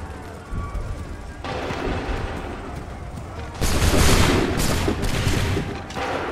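In Assassin's Creed III, a line of soldiers fires a musket volley on command. A crackling burst of gunfire is followed by a louder, sharper salvo that rolls and echoes for a couple of seconds.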